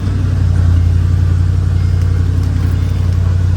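A 2003 Mercedes SL55 AMG engine starting by push button, then settling into a loud, steady, low idle rumble that carries through to the end.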